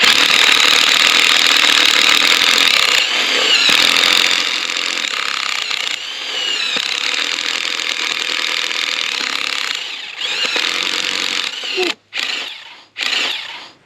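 A tractor-driven auger drills a pilot hole for drainage, grinding steadily into the ground with its engine droning, then the noise drops and cuts in and out near the end.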